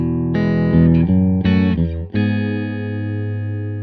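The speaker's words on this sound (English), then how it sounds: "Here's on the bridge, no reverb, clean channel." A clean electric guitar on the bridge pickup plays a few bright, ringing chords through an Orange Super Crush 100 amp's clean channel, no reverb, each one sustained and fading slowly, with no distortion.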